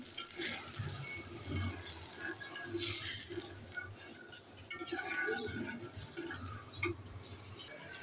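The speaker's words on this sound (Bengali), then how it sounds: "জল দিয়ে দিচ্ছি।" Water is poured into a pot of cooking masoor dal, making quiet splashing and trickling with soft clinks of utensils. Close-up, low in level, with no speech.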